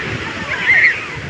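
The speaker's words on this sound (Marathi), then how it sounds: "पाण्याचं बोलतं चाललंय, सर्फिंग," Sea waves splash and slosh on a crowded beach where people are surfing, a steady watery wash with one louder surge midway, heard under nearby voices.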